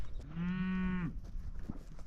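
A single long, loud cow moo sounds close by inside a barn where cattle are kept, lasting about a second before fading into quiet background noise.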